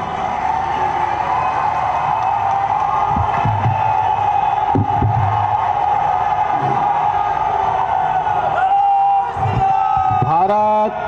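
A large crowd at a public event for the Maa Vindhyavasini corridor foundation ceremony applauds and cheers in a loud, continuous roar, with shouts rising near the end.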